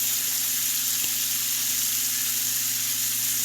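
Shrimp sizzle steadily in a hot frying pan after being flipped, a close, even frying hiss with a low hum underneath and one faint tap, and no one talking.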